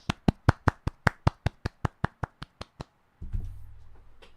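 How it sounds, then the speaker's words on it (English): Evenly spaced claps, about fifteen sharp slaps in a steady rhythm, close and fairly loud, marking applause for a guest interviewer at an album launch, followed by a brief low rumble and faint background noise. "Let's give him a round of applause, guys."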